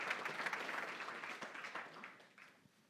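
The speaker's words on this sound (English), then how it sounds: "An applause. Big applause." Applause from an audience at a tech meetup, a steady spread of clapping that fades out over about three seconds, fairly quiet and distant.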